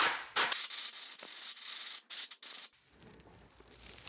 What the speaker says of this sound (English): I'll take my blow nozzle and blow away any debris or anything loose that's on there first